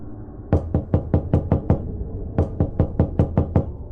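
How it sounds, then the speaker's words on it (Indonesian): Knocking on a door, two quick series of about seven sharp raps each separated by a short pause, loud and close against a quiet background. "Tiba-tiba saja, ketukan dari arah luar semakin keras dan lebih banyak dari tadi."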